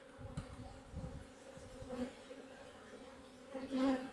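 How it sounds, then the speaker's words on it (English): Honey bees buzz steadily around a hive being shaken, a low droning hum with brief louder swells, close and moderately loud with no talking. "Flying bees will go."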